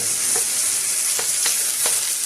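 Chicken with broccoli, red and orange bell peppers and pea pods fries in a pan with a loud, steady hiss and a few light stirring clicks, close up and with no talking.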